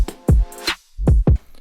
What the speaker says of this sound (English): So the drums in this section alone sound like this.